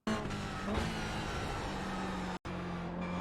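Toyota GR86 engine in the iRacing game downshifting under braking, a steady droning engine note that drops in pitch, briefly cutting out before resuming, loud and continuous with no talk.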